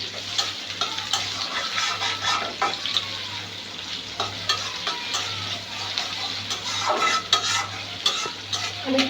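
Onions frying in oil in a pan for noodles, a steady sizzle with stirring and occasional utensil clicks against the pan, no talk.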